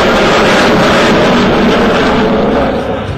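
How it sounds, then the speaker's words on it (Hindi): An HAL Tejas fighter jet roars past in flight, a loud, dense, broadband engine rush sustained throughout and fading slightly at the end, with no voices. "तूफान की रफ्तार से आसमान का सीना चीरता ये तेजस है।"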